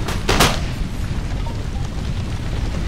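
Muskets and cannon fire in an Empire: Total War battle, with two sharp, loud booms near the start followed by a low, rumbling bed of distant battlefield gunfire.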